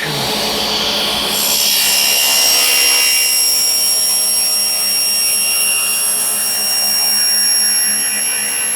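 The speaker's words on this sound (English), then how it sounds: "we'll just do a quick cut on this piece of acrylic" A table saw cuts through a 3/4 inch piece of clear acrylic, giving a loud, sustained whine with a ringing blade tone that swells in the middle of the cut and then tapers off.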